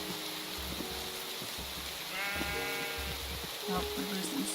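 Sheep in a video game bleat in several short, wavering calls, some overlapping, over a steady background hum while a person talks.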